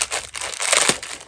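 Crinkly material from the bottom of a crocheted baby blanket being squeezed: loud, close crackling and crumpling in quick repeated bursts, with no talk.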